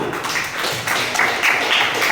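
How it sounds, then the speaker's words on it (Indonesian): A classroom group claps for the first student group after its presentation, a steady, dense patter of hands that holds for about two seconds at moderate loudness. "sekali lagi berikan tepuk tangan untuk kelompok 1"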